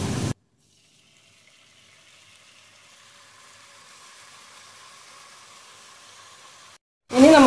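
Canned oily tuna, a 180 g tin of fish, tipped into spiced masala frying in a pan gives a soft, steady sizzle and hiss that holds for several seconds between brief bursts of speech.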